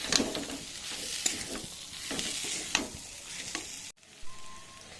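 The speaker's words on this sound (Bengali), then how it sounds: "এবার আমি সব কিছু একসাথে ভালো করে কষিয়ে নেব" Spices with chili powder and meat masala being fried and stirred in a pan for an egg tarka, a close, steady sizzle with spatula scrapes that cuts off abruptly near the end, leaving a quiet background.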